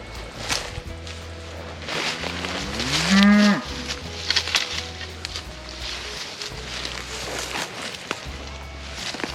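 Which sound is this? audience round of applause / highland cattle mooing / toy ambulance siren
highland cattle mooing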